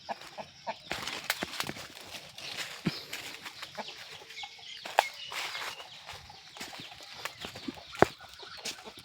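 Country chickens clucking and scratching around a free-range farm, scattered close calls and soft squawks over a steady outdoor background, with occasional footsteps nearby.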